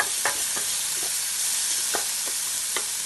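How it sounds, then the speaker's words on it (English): Onions and tomatoes fry in a hot pan for stuffed peppers, a steady bright hiss of sizzling with a few soft stirring scrapes, close and continuous with no talk. "So these are sizzling away nicely."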